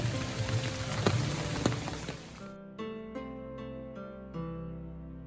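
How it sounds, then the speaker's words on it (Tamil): Evening rain patters in a dense hiss for a couple of seconds, then gives way to a quieter scene with a few scattered drops and clicks. "ஈவினிங் வந்து கொஞ்சம் மழையாக இருந்துச்சு"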